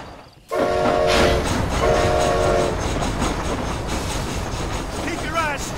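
A train rolls along in Red Dead Redemption: Undead Nightmare, with a loud steady rumble and clatter of wheels on rails and two short horn blasts near the start. Voices speak over the noise.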